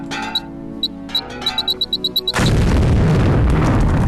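In the video game Deus Ex, a run of short electronic beeps and clicks is cut off by a loud explosion that becomes a sustained roaring blast to the end of the clip.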